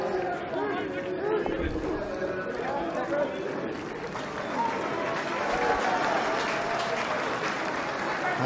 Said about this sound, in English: There's applause on the far side of the field because Callum Phillips has been interchanged